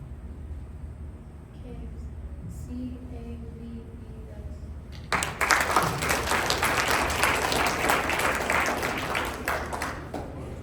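Audience applause breaks out at a spelling bee, a sudden burst of steady clapping from a room full of people that lasts about five seconds, after a quiet stretch with faint speech.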